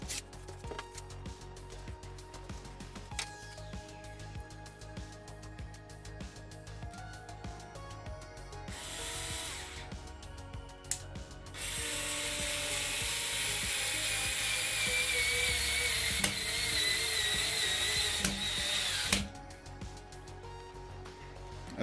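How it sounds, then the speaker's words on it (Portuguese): A TOPSHAK TS-ESD1 4V cordless screwdriver whirs as it pre-drills and then drives a screw, a brief motor burst followed by a longer steady high-pitched whine that cuts off abruptly, close up. "Agora vamos fazer um pré-furo aqui e testar a entrada desse mesmo parafuso"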